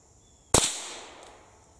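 A single sharp rifle shot rings out outdoors while hunting squirrels in Iowa, a sudden loud crack followed by a fading echo that trails off over about a second.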